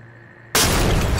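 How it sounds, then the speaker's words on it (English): A flashbang grenade detonates in the tactical shooter Ready or Not, a sudden loud broadband blast after a quiet room tone, then a sustained harsh ringing roar that stays at full level. "C2, flashbang it and clear"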